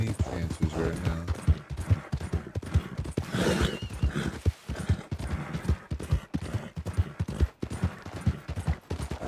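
A horse in a Red Dead video game gallops in fast, rhythmic hoofbeats throughout, close and fairly loud, with a brief snort or whinny midway.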